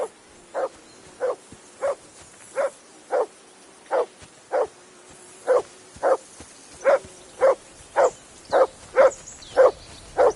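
Dog in Kingdom Come Deliverance 2 barking steadily, about sixteen evenly spaced woofs over ten seconds, fairly close and loud, with no voices over it.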